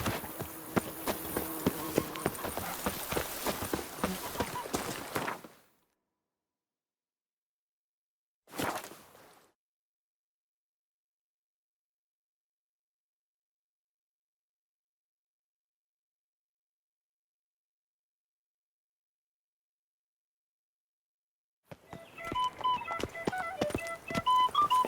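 Horse hooves pounding at a gallop in The Witcher 3, a dense rhythmic clatter that cuts off, a short burst mid-clip, then the galloping resumes after a long silence.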